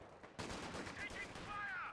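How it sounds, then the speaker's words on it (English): Infantry small-arms fire in Company of Heroes 2, a dense burst of rattling shots that starts abruptly and holds steady and loud, with faint game voices underneath. "Taking fire!"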